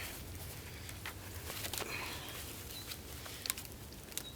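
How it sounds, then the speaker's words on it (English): Rain begins to fall in a forest at a bushcraft camp. Faint, scattered drops tap and patter over a soft, steady background hiss. "It just started to rain"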